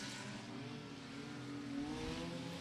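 Enduro race cars accelerate back up to racing speed at Beckley Motor Speedway. The engines rise in a steady, fairly distant roar, with the pitch climbing as they pull away.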